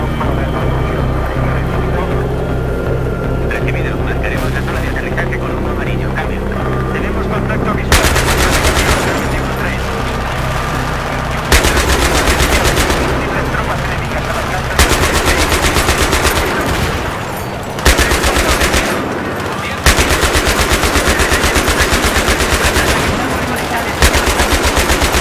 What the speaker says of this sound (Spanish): Solo estoy disparando y ya, güey.